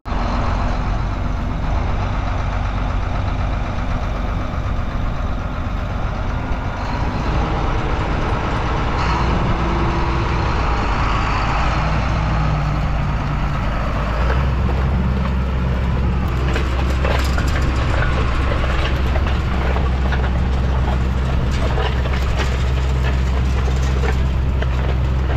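A farm tractor newly fitted with dual rims and tires runs in a field being prepped for corn planting, its steady low engine drone loud and continuous throughout with no talking.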